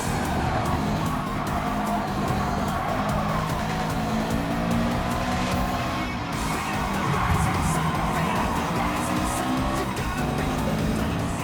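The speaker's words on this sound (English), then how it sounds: "I start drifting my way through into this nice section" A Subaru drifting on slippery tires in Gran Turismo 7 during an all-wheel-drift race, its engine roaring continuously beneath sustained tire squeal and skidding, loud and close throughout, with faint talk underneath.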